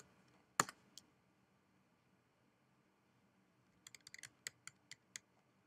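A terminal command is typed on a computer keyboard: one sharp click, then after a quiet pause a quick burst of light, close keystrokes, faint and alone.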